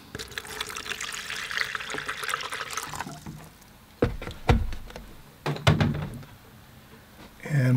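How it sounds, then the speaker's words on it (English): Fresh clean water poured into a large collapsible container for watercolour painting, a steady splashing trickle for a few seconds followed by separate knocks and handling sounds, with someone talking nearby. "Pour some water, fresh clean water"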